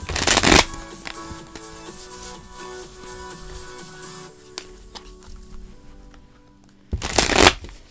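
A deck of tarot cards is shuffled close up in two quick, loud riffling bursts at the start and end, with a quiet stretch of soft background music between them.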